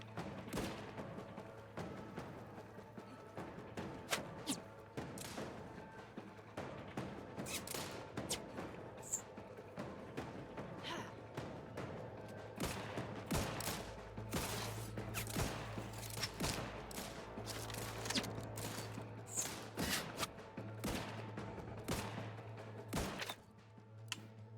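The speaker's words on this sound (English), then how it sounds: "Stop shooting at them." Video game gunfire, many sharp rapid shots scattered over a steady low background hum, moderately loud throughout with brief gaps between volleys.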